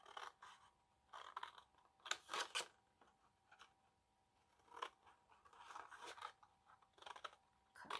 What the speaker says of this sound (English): Just follow that score line and make your cut.